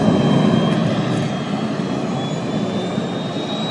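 A Ford Blitz jet truck powered by a Rolls-Royce Viper 202 jet engine gives a loud, steady, broadband roar with a faint high whine, heard outdoors at an airshow.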